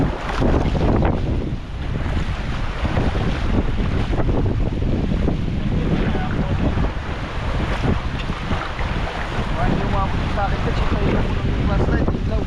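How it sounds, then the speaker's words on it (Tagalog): Strong wind roars steadily and loudly throughout on open sea, buffeting the microphone, with a faint wash of water and boat noise beneath. "lakas ng hangin"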